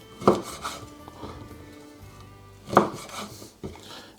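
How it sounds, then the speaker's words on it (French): A knife cuts sausages into pieces on a board, giving two distinct thumping chops a couple of seconds apart, followed by a softer tap, all close and fairly quiet. "On s'attaque maintenant aux saucisses. On se fait une bonne mise en place, on les coupe en morceaux."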